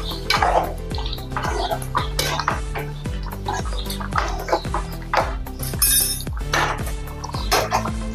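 A spoon scrapes and clinks against a cooking pan as garam masala is stirred into potatoes for aloo do pyaza, with repeated close metallic taps and rhythmic stirring strokes throughout.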